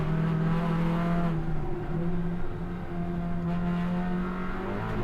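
A race car at the Sebring 24-hour endurance race runs down the front straight, a loud sustained engine drone with steady tonal harmonics that shift slightly in pitch, heard without any talk.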